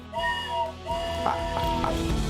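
Steady high whistle tones sustained over a low rumbling background, moderately loud and continuous, with no voices.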